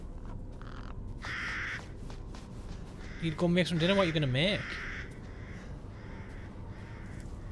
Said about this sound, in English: Just a bird.